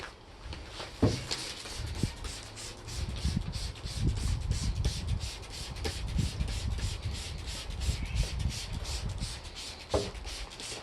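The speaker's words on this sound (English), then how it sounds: "then we will polish it again with regular compound and throw a quick polish on it" Hand-held polishing of a surface with regular compound makes a continuous rubbing, swishing sound up close, with a few soft knocks, and no voices.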